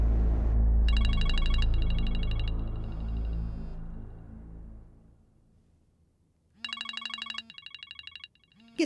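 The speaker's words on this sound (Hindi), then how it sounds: "किसका फोन आ रहा है?" A phone rings in a short electronic ring pattern, first as a cluster of pulsing tones. A low rumbling background then fades, and the ring returns in louder repeated bursts near the end.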